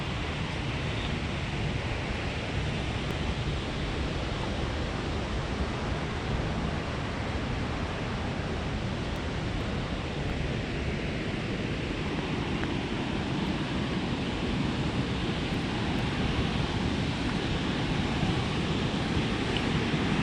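Water pours steadily over the Mill River power dam in Northampton, Massachusetts, a dense, loud, unbroken roar that stays constant throughout with no voices over it.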